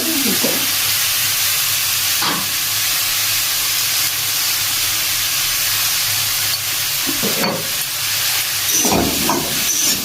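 Pumpkin pieces fry in a pan, giving a continuous steady sizzle and hiss with a few brief louder scrapes or stirs scattered through ten seconds, with no talking.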